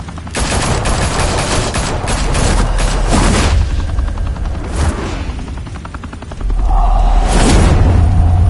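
Loud bursts of rapid gunfire from an open-fire shootout in Batman: The Telltale Series, dense volleys in the first few seconds, then scattered shots over a low rumbling drone, with no talk.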